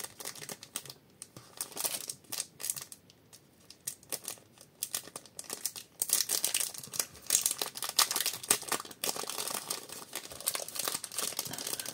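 Strongly glued stickers are peeled off their sheet in crinkly tearing and rustling bursts, close and fairly quiet, with no talking.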